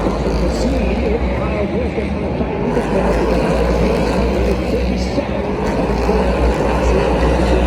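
NASCAR stock cars race in a heat at the Busch Light Clash at the Coliseum, giving off a loud, continuous engine roar that never lets up, with talk over it.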